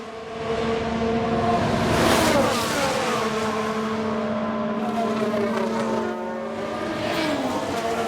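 A 1992-era Ferrari Formula 1 car racing in the F1 Manager 22 game, its high-pitched engine screaming steadily with rising and falling revs as it passes, loud and continuous with no talking.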